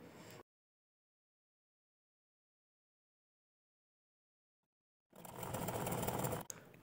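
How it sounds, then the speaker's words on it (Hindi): Sewing machine stitching the fitting seam on the folded upper part of a summer frock with balloon sleeves: a short burst, long silence, then a close, steady whirring run of about a second and a half. "अब अपर पार्ट को सेंटर से डबल फोल्ड करेंगे और फिटिंग की सिलाई लगा लेंगे।"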